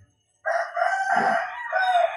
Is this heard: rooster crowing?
yes